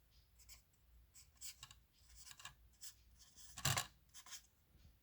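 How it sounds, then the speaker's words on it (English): Pen writing a label on a remote control transmitter for a 1/10th scale 2005 Chrysler 300C r/c car: soft, scratchy strokes come in short bursts over about five seconds, close and quiet, with one firmer tap or stroke near the end. "So I'm just gonna write here for my sake what this goes to."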